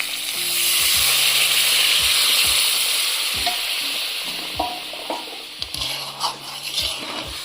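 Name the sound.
stirring koi fish masala in a pan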